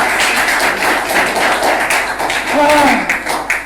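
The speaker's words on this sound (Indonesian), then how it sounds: "kita ulangi lagi sekali lagi tepuk tangan untuk Aro Wardana" An audience at a lecture performance claps together in a loud, continuous burst of applause with a faint voice rising through it.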